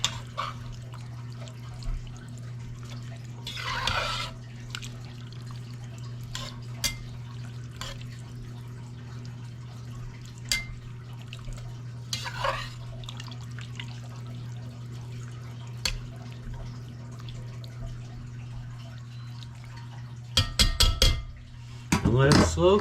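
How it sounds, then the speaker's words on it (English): A spoon scrapes and clinks in a pot of mushroom soup in a home kitchen, scattered soft knocks and stirring noises over a steady low hum, closing in a quick run of louder clatters. "And then mix this up a little bit."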